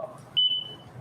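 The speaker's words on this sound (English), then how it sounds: "What is beeping?" An electronic beep sounds in a township council meeting room: one high, steady tone that starts abruptly and holds for about half a second over low room noise, with no talk.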